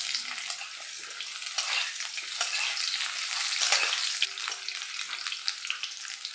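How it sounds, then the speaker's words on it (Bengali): Potatoes frying in oil with a tempering of bay leaves and whole cumin, giving a continuous crackling sizzle up close with a few stirring scrapes and no talk. "ফোড়নটা ভাজা হয়ে গেছে, খুব সুন্দর একটা গন্ধ ছাড়ছে। এবার দিয়ে দিচ্ছি আলু।"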